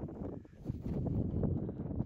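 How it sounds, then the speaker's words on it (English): Wind gusting across a hilltop in the Shropshire Hills, a low, faint rumbling buffet that swells and eases over a couple of seconds, with no speech. "It's a very windy day."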